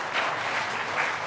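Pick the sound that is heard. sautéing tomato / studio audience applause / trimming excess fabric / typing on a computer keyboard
studio audience applause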